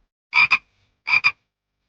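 A frog by a lotus pond gives two short double croaks about a second apart, each a close, clear pair of raspy pulses with quiet in between.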